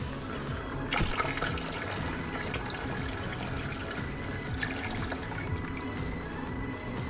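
Oil pours slowly and steadily into glass jars of pickled partridge, a continuous soft liquid trickle and gurgle close by, with faint clinks and no talking.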